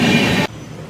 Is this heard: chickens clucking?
no